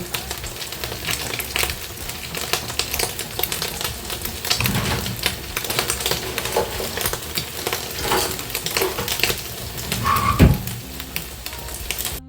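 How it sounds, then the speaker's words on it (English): Pork cutlet sizzles in hot oil, a dense, steady crackling and spitting that fills the whole stretch, close and fairly loud, with a brief clatter near the end. "So I'm gonna put the pork."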